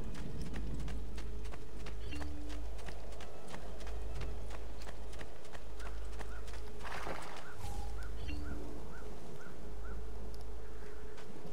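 Galloping horse hooves in the video game Assassin's Creed 2, a steady rhythmic clip-clop with game ambience and faint bird-like calls, no talk over it.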